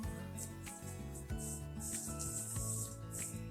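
Hands rubbing dry spice rub onto raw meat, a continuous close-up scraping and smearing with quick repeated strokes and short pauses, no talking.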